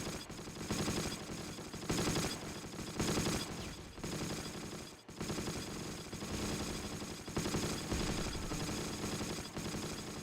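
Gunfire in the wargame Close Combat, with repeated rapid bursts of automatic weapons in a steady rhythm across the whole stretch, fairly quiet and without speech.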